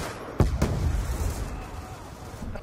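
Gunfire in a chaotic shooter match, a sharp loud burst near the start followed by a second crack and a lingering rumbling wash of distant battle noise.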